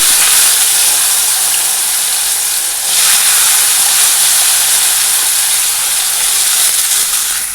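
Hot oil with a little turmeric stirred in sizzles steadily in a pan, a loud, continuous broadband hiss that dips briefly near the middle and then carries on, with no voices.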